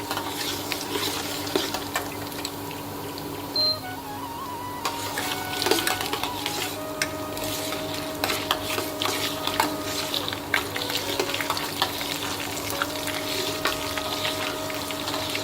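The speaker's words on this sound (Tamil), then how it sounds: "கொஞ்சம் லேசாக பொன்னிறமாக வறுத்து வரட்டும்." Black gram and other ingredients roasting in oil over a low flame, heard as a steady close sizzle with frequent clicks and crackles and some background hum, no voices.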